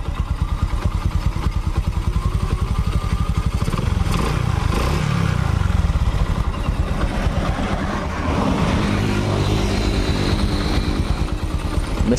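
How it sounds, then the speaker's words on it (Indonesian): A repaired Honda Supra X 125 motorcycle engine runs steadily up close, its rapid regular firing pulses continuous and loud throughout, with a brief rise in revs midway and no talking. "Mesinnya sudah halus, lembut mesinnya."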